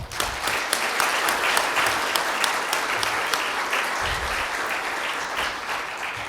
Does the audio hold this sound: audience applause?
yes